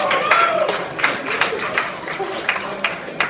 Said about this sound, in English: and of course Lisa Kahn, if we can get a quick round of applause.